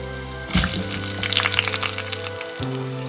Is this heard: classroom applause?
no